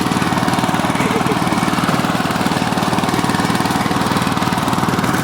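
A power tiller engine running in a village field, loud and close, with a steady fast rhythmic chugging that holds unchanged throughout and no talking.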